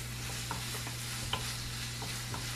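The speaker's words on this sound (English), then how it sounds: "we're just going to stir fry this all together" Chopped salmon with seasoning being stir-fried in a pan for tacos, a faint low sizzle with a few light scraping stirs over a steady background hum, and no voices.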